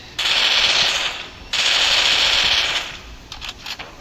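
Free Fire video-game gunfire while lining up a headshot: two long, loud, rapid automatic bursts, then a few short scattered shots, with no talking.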